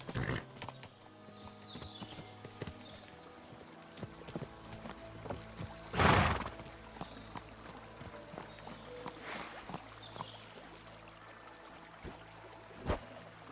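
Steady clip-clop of horse hooves at a walking pace from the video game Kingdom Come: Deliverance II, fairly quiet, with a sharp louder burst midway and faint ambient sounds behind.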